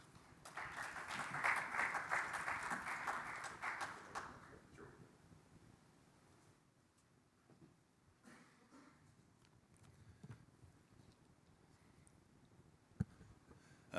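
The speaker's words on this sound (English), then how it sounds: "Let's give Gary a round of applause." A conference audience at a safety event applauds a presenter being called to the stage, a fairly quiet burst of clapping that fades after a few seconds into room noise with occasional stray claps.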